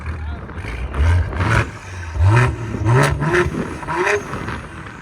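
A 2023 Ford Explorer ST with a 3.0L EcoBoost V6, downpipes and valved exhaust revs up about four times in quick succession, each throaty climb rising then dropping back, loud and close with a faint voice in the background.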